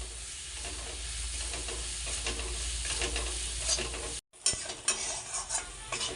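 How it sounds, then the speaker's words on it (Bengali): Spice mixture for duck egg kalia is stirred and fried in a pan, giving a continuous sizzle with repeated scraping of a utensil against the pan, a brief cut of silence, then more stirring and sizzling. "এখন আমি সব কিছু একসাথে ভালো করে মিশিয়ে 2 মিনিটের মতো কষে নেব"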